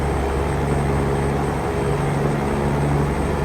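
A deep truck engine in the video game Heavy Haul roars steadily, a continuous heavy low rumble close by, with no voices.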